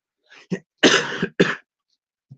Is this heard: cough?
yes